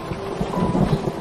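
A cartoon thunderstorm effect with heavy rain and a low, rolling rumble of thunder, steady and loud for just over a second.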